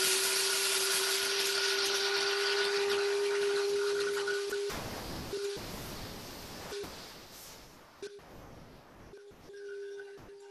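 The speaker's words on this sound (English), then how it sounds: "So I'm going to go ahead and grind the beans." Coffee beans are ground in a hand grinder, producing a loud, steady, hissing grind with a droning hum that turns choppier and more broken as it goes on, with brief gaps between bursts.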